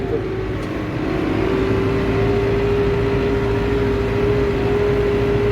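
A vehicle drives across a field toward a tractor during fertilizer spreading, its engine a steady, loud drone throughout with a sustained tonal hum and no break.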